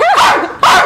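A man imitates a dog with his voice, giving two loud, close barks in quick succession with a brief gap between them.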